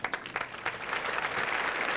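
A crowd at a 1988 professional bowling tournament in New Orleans applauds a 4-pin spare attempt, with scattered claps rising into a steady wash of applause heard from a distance.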